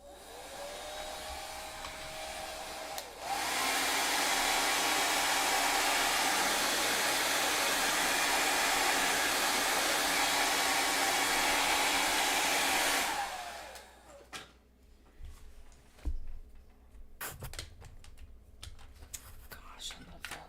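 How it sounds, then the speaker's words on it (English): A blow dryer roars loud and steady for about ten seconds, starting abruptly and stopping just as suddenly, with quieter room sounds and faint handling noises before and after. "blow dryer."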